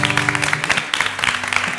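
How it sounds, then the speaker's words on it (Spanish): An audience applauds after a song, with dense clapping running throughout beneath loud voices speaking over it. "¡Fuerte el aplauso!"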